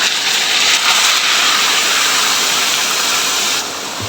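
Milk added a little at a time to hot, deeply coloured caramel in a pan gives a loud, steady hiss and sizzle that holds for about four seconds, then eases slightly.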